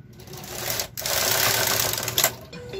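A Brother KR 230 knitting machine carriage slides across the bed with a steady mechanical whirring, louder toward the middle, with a brief pause and a clack near the edge where the turnaround cam is cleared.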